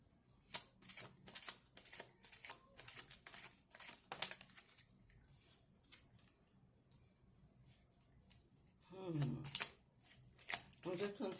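Tarot cards shuffled by hand in a run of quick, crisp riffling bursts, close and fairly quiet, with a few louder card snaps near the end and some faint background talk.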